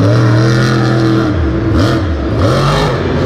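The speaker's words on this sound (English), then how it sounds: "I love to watch a Monster Jam truck fly." Monster Jam monster truck engine at an arena show in Houston, Texas, loud and close, a deep throaty roar that revs up and down in several surges with rattling clatter, no talk.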